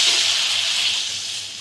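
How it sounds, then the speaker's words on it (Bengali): Water is poured into a pan of Bengali fish curry, a brief soft hissing gush that fades within a couple of seconds. "এখন আমি এটাতে জল দিয়ে দেব।"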